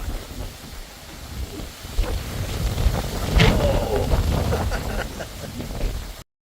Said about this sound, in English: That wind is crazy out there at the moment